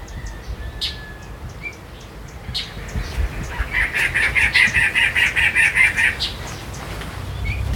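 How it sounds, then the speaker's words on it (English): Wild birds call around a garden with bird baths at a rental property in Cabo Palmo, southern Baja California; faint chirps early give way to a rapid run of clucking, pulsing calls in the middle, over steady outdoor background noise. "I've been sitting here all day just noticing the birds that come to the garden."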